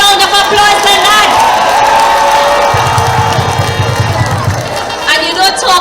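A crowd at an outdoor PNM political public meeting on Harris Promenade, San Fernando, cheers and applauds steadily, a dense mass of voices and claps with a low rumbling chant rising in the middle, loud and continuous throughout.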